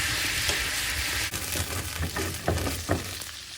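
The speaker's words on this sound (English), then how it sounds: "now it's time to add some bourbon. As that's burning off, I'll kill the heat on the stovetop." Bourbon hits a hot pan with a steak and sizzles loudly and steadily, with a few sharp crackles and pops toward the end.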